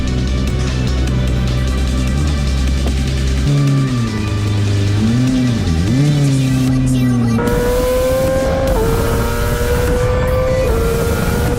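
Loud racing engine of a Yamaha R6 race motorcycle with a GYTR kit, on track at Cremona, revving up and down, the pitch climbing and dipping in bursts, then holding a higher whine near the end.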